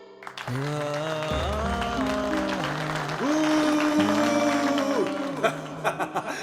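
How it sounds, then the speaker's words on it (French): Audience applause in a televised romantic drama episode, a steady wash of clapping under prominent sustained music that carries on throughout. "Faites un tonnerre d'applaudissements pour Vishal Kapoor."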